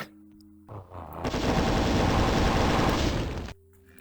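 A chaingunner fires its chaingun in Doom 2: a dense, loud burst of rapid gunfire that kicks in after a brief sound and rattles continuously for over two seconds before cutting off abruptly.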